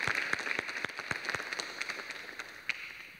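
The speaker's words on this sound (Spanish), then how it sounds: "Dale un fuerte aplauso al Señor." Church congregation claps at a Spanish-language service, a fairly sparse, rhythmic patter of hand claps heard at moderate distance and gradually tapering off.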